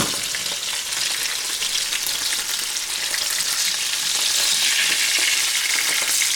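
Cheese sizzles and fries steadily in a non-stick pan, a dense crackling hiss that grows slightly louder toward the end, with no voices.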